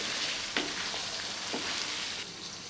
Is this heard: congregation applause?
no